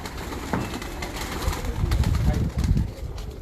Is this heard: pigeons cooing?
yes